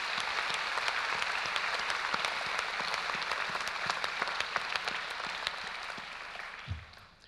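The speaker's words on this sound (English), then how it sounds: "Graduates, please join me in a round of applause to thank the academic staff and all the support services" A crowd of graduates applauds at a university graduation ceremony, a thick, even roar of clapping that holds steady and then thins out and fades near the end.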